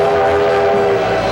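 A train horn from a TV western-adventure show sounds as one steady, loud, sustained blast that fills the short moment without any talking.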